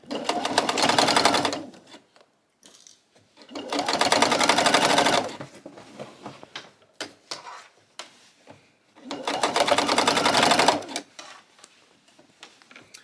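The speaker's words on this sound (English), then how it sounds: "So now I'm going to stitch around here." A sewing machine stitches around a denim skirt made from upcycled jeans in three loud, close bursts of rapid whirring, each about two seconds long, separated by quiet pauses with small handling clicks and fabric shuffles.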